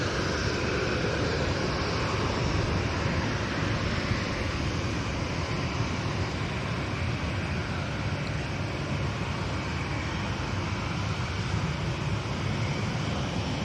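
A Ryanair airliner climbing out from Manchester Airport, heard as a steady, moderately distant jet rumble with a hissing wash that holds evenly throughout, with no voices.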